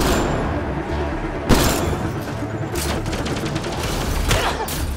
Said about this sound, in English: that had a larger blast radius than I anticipated